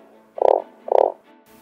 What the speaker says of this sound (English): I found this cute little frog.